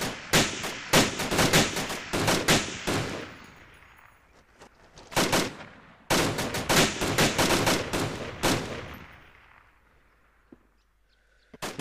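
Bursts of rapid automatic gunfire and single shots in the military shooter ArmA 2: Operation Arrowhead, loud sharp cracks in two long clusters separated by a quieter gap, fading to near silence at the end.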